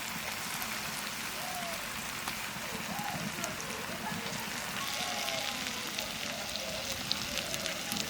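Fried eggs go into a pan of cooked spice masala, and an even, crackling sizzle holds steady throughout. A voice talks faintly underneath.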